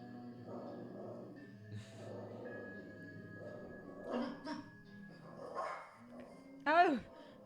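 A dog barks a few times amid people chatting, with short sharp yaps scattered through the talk and one louder bark near the end, all moderately close in a domestic setting.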